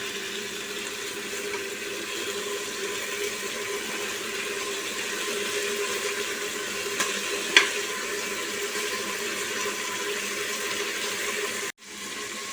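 Lamb ribs fry in a pan with a steady, even sizzle that runs unbroken for several seconds, broken by a faint click and a sudden stop near the end, with no voices.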